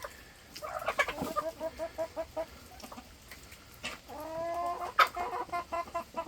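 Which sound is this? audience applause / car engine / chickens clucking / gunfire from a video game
chickens clucking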